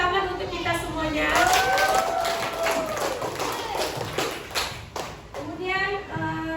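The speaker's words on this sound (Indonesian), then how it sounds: "Tepuk tangan untuk kita semuanya" A class of fifth-grade primary school children claps together during a science lesson, the rapid hand claps running steadily under group chanting and voices.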